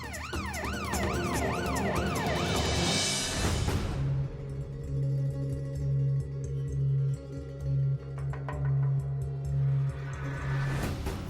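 Police siren wailing outside a home on Diwali night, loud rising-and-falling sweeps that cut off, leaving a steady low hum and faint crackling before the wail returns at the end.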